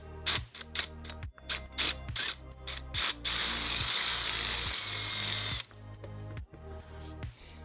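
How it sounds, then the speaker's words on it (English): A 10mm reamer works through heat-set holes in bursts of ratcheting, grinding turns, then settles into a sustained high whine for a couple of seconds before short stuttering strokes resume, close and fairly loud with no talking. "I just run a 10mm reamer through it after,"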